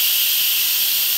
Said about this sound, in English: That is the Instant Pot releasing the air.